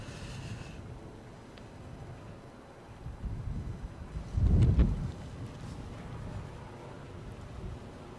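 Strong gusts buffet the microphone outdoors at Edinburgh Airport, a rough low rumble that swells into a loud blast midway before easing back to a steady blustery roar.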